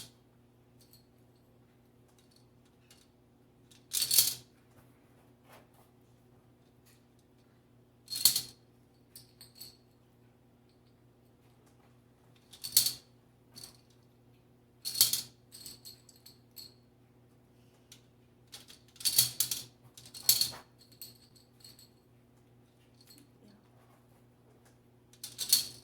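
Plastic discs drop one at a time into a Connect Four game, giving sharp separate clatters and rattles spaced several seconds apart over a steady low hum, close and fairly loud.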